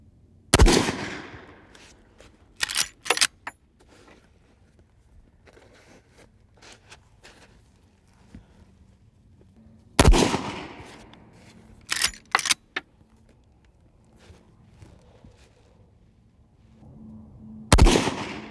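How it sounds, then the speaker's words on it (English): Three loud, sharp rifle shots from a Rossi lever-action rifle zeroed with an Aimpoint ACRO P2 optic, each crack trailing into a short outdoor echo, spaced about eight seconds apart, with faint handling clicks of the lever between them. "I'm just going to shoot a nice, clean 3-shot group."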